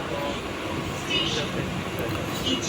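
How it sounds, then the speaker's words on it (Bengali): Rumbling interior of a moving Kalyani Simanta local commuter train in West Bengal, a steady mid-loud drone of wheels and carriage with faint voices mixed in. "তো বন্ধু এখন হচ্ছে আমরা লোকাল ট্রেনে উঠে পড়েছি কল্যাণী সীমান্ত লোকাল"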